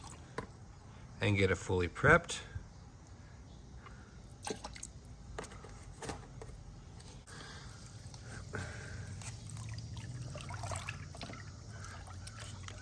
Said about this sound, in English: I want to put 3 capfuls of ONR in